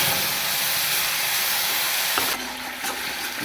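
Onion, tomato and green chilli paste hits hot oil in a kadai for a Kashmiri potato dish, a loud continuous hissing sizzle that drops and softens after about two seconds.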